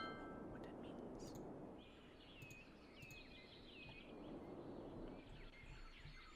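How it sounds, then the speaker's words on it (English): Birds chirp and trill in a nature reserve in the city-building game Cities Skylines, with short high calls scattered over a steady hushed ambient wash. "Listen to the birds in the nature reserve."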